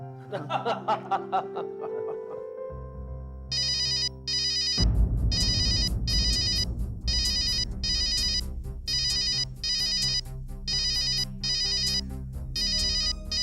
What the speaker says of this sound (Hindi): वैसे फोन किसका बार बार आ रहा है?